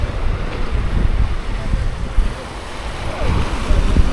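Ocean waves surging and washing against rocks along a shoreline trail in Florianópolis, with a steady broadband rush of surf and wind noise throughout, swelling slightly toward the end.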